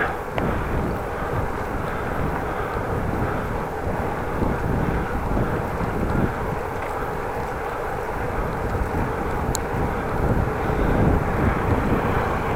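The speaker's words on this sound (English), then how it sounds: "Little bit of headwind" Headwind buffets the microphone on a Dutch bike commute on a mild day, a continuous low rumbling roar with gusty swells throughout.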